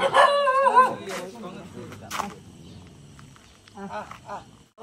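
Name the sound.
mother dog barking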